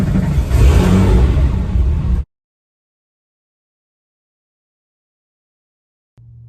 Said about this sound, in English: I'm ready to start the engine and have some fun